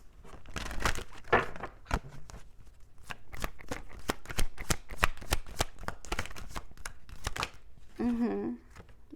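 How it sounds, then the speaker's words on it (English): Oracle cards being shuffled for a reading, a steady run of crisp riffling clicks close up, followed by a short burst of softer card sounds near the end with no talking. "And now let's pull the Seeker's card."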